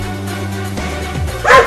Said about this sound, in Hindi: देखो वो कुत्ता कितना बड़ा है और वो गुस्से में भी है।